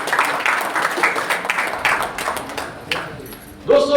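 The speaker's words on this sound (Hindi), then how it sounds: "जोरदार ताली नारायण सेन जी के लिए।" Audience applause for Narayan Sen at a Green Army gathering in Raipur, a burst of clapping that overlaps with a voice speaking and fades, followed by a brief louder sound at the end.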